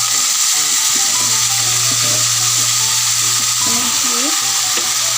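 Khutura greens hit a hot pan of oil and sizzle loudly and steadily, close up, with a low steady hum and faint clatter running beneath the frying.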